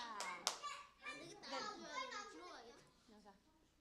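Children in a church kids' class clap briefly after a correct answer, a quick burst of small hands near the start, then a child and an adult talk over the quieting room.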